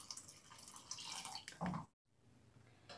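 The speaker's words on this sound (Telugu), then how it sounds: "ఈ పొడి అన్నంలోకి మునిగేంత వరకు వాటర్ పోసుకోండి" Water poured from a vessel into dry, loosened leftover cooked rice, a close, steady splashing pour that ends with a brief cut to quiet before faint kitchen sounds resume.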